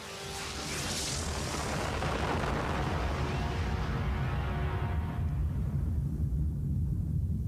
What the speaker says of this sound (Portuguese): acontece a primeira explosão atômica no deserto do Novo México